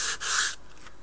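A few brief strokes of coarse 120-grit sandpaper rubbing over a small 1/35 scale model wall part, soft close scratchy rasps in quick succession, alone and fairly quiet.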